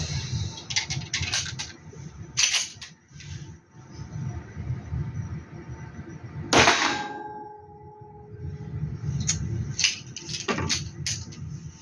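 A Canik S120 pistol fires, giving one sharp, loud report that rings out, surrounded by lighter metallic clinks and clatter.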